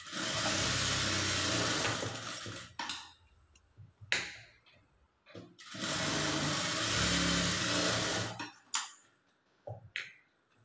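A sewing machine stitches the lining of a princess-cut blouse, running in two sustained bursts separated by brief pauses and handling clicks, fairly close and steady.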